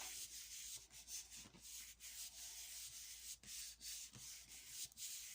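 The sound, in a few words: rubbing a piece of card on a gel plate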